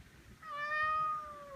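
A single drawn-out house cat meow, clear and fairly close, rising then slowly falling, with quiet room noise around it and no talking.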